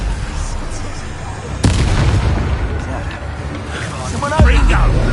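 In a video game, the Confringo spell sets off a sudden loud blast, with a second heavy boom near the end, while voices call out around them.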